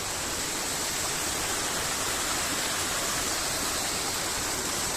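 Steady rushing water flows continuously on Girnar mountain near Junagadh, Gujarat, a dense broadband wash like a stream or small waterfall close by, uniform throughout with no voices.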